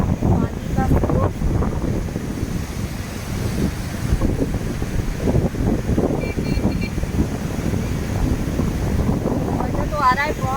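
Rushing river water in snow-covered cold mountains, a steady broadband wash with gusting wind noise, loud and close, under intermittent talk throughout.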